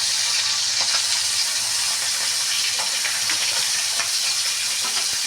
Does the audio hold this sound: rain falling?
no